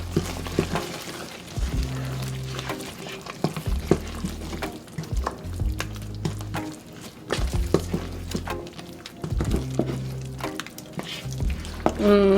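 Ofe Owerri soup, thick with vegetable leaves, is stirred in a pot: repeated scraping and sloshing strokes come in uneven bursts, close and fairly loud, over a low, steady droning background.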